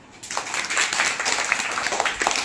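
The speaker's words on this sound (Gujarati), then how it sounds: "ચાલો એક તાળી પાડી દો" Schoolchildren clap together in a burst of group applause, a dense patter of many small hands sustained for a couple of seconds, fairly close and lively.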